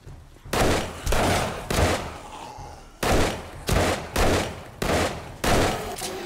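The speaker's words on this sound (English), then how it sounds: "This is not what the gun is supposed to sound like." A gun in the video game 7 Days to Die fires seven or so loud, booming shots in an uneven rhythm, each followed by a short decaying tail, with no talking over them.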